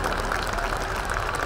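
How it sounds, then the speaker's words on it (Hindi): Audience applause at an honours ceremony during an Uttarakhand cultural festival, a steady, moderately distant wash of many hands clapping with no break. "प्लीज एक बार जोरदार तालियां"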